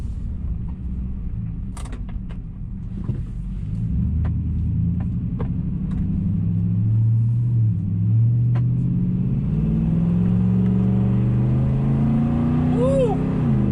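Nissan Titan pickup with a Flowmaster exhaust accelerating hard on a test drive, a loud, deep engine rumble rising steadily in pitch as it revs up, with a few sharp clicks early on.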